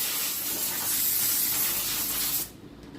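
Steady spraying hiss of a lathe lead screw being cleaned, a continuous airy burst lasting over two seconds before cutting off abruptly, alone without talk.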